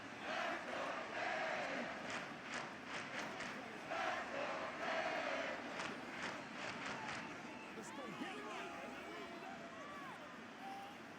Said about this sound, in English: Well, this crowd doing their best to make a lot of racket.